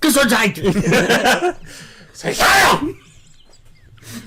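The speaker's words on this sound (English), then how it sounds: "I sound like an angry German when I sneeze" Someone laughs and talks, then lets out a single loud, forceful sneeze, followed by quiet.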